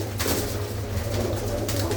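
Pigeons kept by a Punjabi fancier in the Tarn Taran area, a prize-winning hen among them, coo in a low, steady, continuous drone close by, with no talking.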